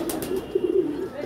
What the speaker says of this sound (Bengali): এখানে সব পায়রা